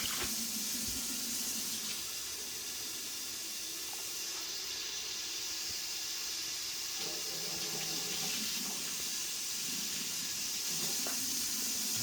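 Tap water runs steadily into a jar for turkey brine, a constant hissing rush with slight changes in tone as the container fills.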